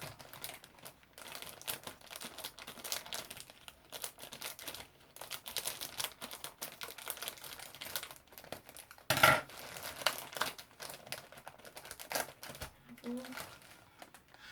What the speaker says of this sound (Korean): 그냥 뜯기 귀찮으니 가위로